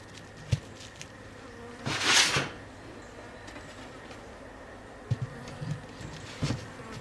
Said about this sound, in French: Les abeilles qui tournent, ce sont des pilleuses.